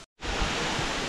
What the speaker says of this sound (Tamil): இங்கே பாறைங்க இருக்கனால எல்லாம் தண்ணியும் செதறிடுச்சு.